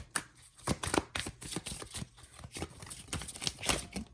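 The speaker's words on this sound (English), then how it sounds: "I'm going to shuffle like 1 or 2 more times" Tarot cards being shuffled by hand, a steady run of soft, papery riffles and slaps repeating quickly at close range in a quiet room, with no voices.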